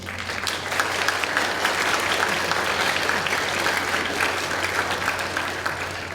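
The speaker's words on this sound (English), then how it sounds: "students, can we give your parents a round of applause?" Steady applause from middle-school band students at a band camp, a dense continuous wash of many hands clapping, loud and sustained for several seconds with no talking over it.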